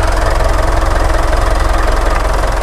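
A 2013 or 2014 Mitsubishi Pajero Sport VGT Exceed automatic idles up close, its diesel engine giving a loud, even, rapid knocking clatter over a deep steady rumble, with no talking.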